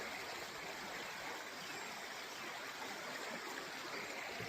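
A river rushes steadily through a forest near a waterfall, giving a constant broadband roar that stays even and loud from start to finish with no voices.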